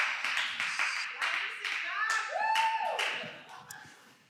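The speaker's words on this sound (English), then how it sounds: "I would like a few claps" A sermon audience gives a few scattered claps, distinct individual hand claps in an uneven rhythm, mixed with laughter and excited vocal reactions from the crowd that fade toward the end.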